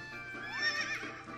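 Horse in the video game Fantasy Life giving a single faint whinny that rises and then trembles down over about a second, heard alone.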